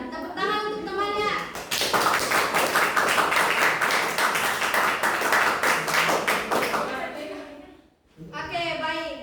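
A class of schoolchildren bursts into dense, enthusiastic clapping for a classmate, lasting several seconds close by, with a teacher talking before and after.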